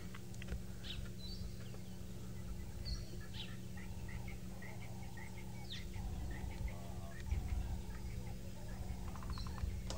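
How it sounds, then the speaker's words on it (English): Wild birds call in the African bush on a safari, with scattered short chirps and whistles rising faintly over a steady low hum, fairly distant and quiet, with no talk. "I've just been listening to the bird calls, trying to remember them all."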